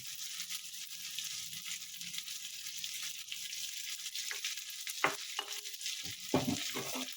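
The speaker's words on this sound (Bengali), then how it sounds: "এটা ভালো মতন ভাজা ভাজা করে নেবে, যাতে কড়াইশুঁটিতে জল না থাকে।" Green peas frying in a kadai, a continuous crisp sizzle with spatula stirring and a few clattering scrapes of the utensil against the pan toward the end.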